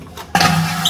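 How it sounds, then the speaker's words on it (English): A cruise ship cabin toilet in a luxury suite flushes with a sudden loud vacuum whoosh that starts abruptly and rushes on steadily close by. "Look, the toilet flushes."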